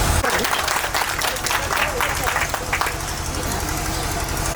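Loud, continuous applause from an audience at a school gathering fills the whole stretch, with voices heard amid the dense clapping.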